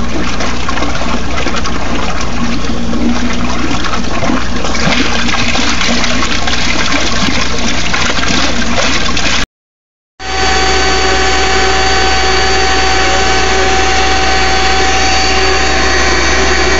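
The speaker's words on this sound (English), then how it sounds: "It's the air jet from a hot tub." A hot tub air jet pump runs as an aerator for a compost tea brewer, giving a loud, steady, bubbling roar that briefly cuts out and then resumes at full strength.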